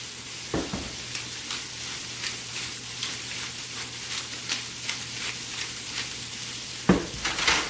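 Mustard chicken frying on a stovetop and being stirred with a wooden spoon, a quiet continuous sizzle broken by soft crackles and a couple of sharper knocks of the spoon.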